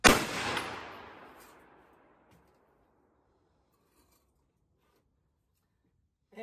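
A rifle fitted with a muzzle brake fires one sharp, loud shot that rings out and decays over about two seconds, followed by near silence and a faint noise at the end.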